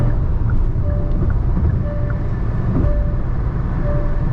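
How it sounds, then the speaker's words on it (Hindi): Inside a Hyundai Venue 1.0 turbo petrol manual cruising on the highway around 3100 RPM, a steady low roar of wind, road and engine noise fills the cabin, constant and fairly loud with no talking. "विंड नॉइज़ में बहुत ज़्यादा इजाफा नहीं हुआ है"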